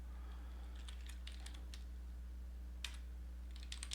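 A folder name being typed on a computer keyboard, with quick clusters of light key clicks, a short pause and then a few more taps, close and quiet over a steady low electrical hum.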